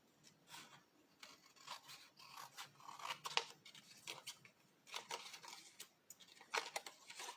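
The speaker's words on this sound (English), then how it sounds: "we'll bring our scissors, we'll turn it upside down and we'll trim around the edge of that flap" Scissors trim around the edge of a paper envelope flap, a series of quiet close snips and papery rustles in irregular bursts with short gaps between them.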